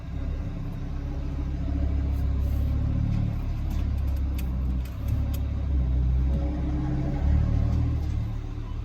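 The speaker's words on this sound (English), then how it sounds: "So you can obviously hear the valves open there." A 2018 Audi RS3 rumbles low and steady with its exhaust valves open, the engine note swelling slightly with revs throughout, close and continuous.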